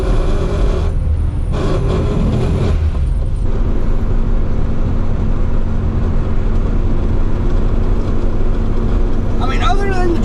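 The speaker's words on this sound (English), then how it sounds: "other than the drivetrain being loud as heck, it's cruising nicely" A 1973 Volkswagen Super Beetle cruises on the road with a loud drivetrain, a steady low engine and gear drone filling the cabin, with brief bumps early on and a faint chirp near the end.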